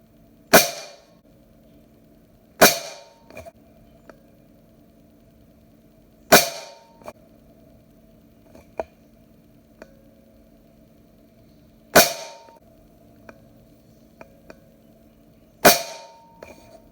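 Benjamin Marauder air pistol firing Predator Polymag pellets, five sharp, close cracks spaced a few seconds apart, each followed by a faint click or pellet impact, over a quiet low hum.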